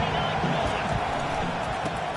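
A dense, steady roar from a football stadium crowd during a college game against Virginia Tech, continuous and loud with a commentator talking over it.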